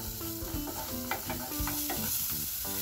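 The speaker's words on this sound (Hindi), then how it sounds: "तो इसे हम थोड़ा सा सौते करेंगे लगभग 1 मिनट" Finely chopped onion sautéing in hot oil on a tawa, a steady close sizzle and crackle running throughout, with the scrape of stirring over it and no talking.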